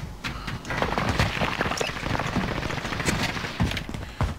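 Rapid gunfire bursts from a first-person shooter video game, dense and continuous with sharp repeated cracks and a few heavier shots, loud and steady throughout.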